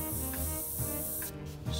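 Airbrush spraying Mission Models cold rolled steel acrylic paint onto a 15mm Jagdpanther model, a steady close hiss lasting throughout with slight pulsing, no voices.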